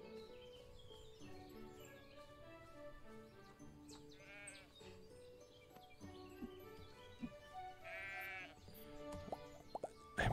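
Sheep bleating in the farming video game Everdream Valley, with two wavering bleats about four seconds apart set against a steady layer of game music.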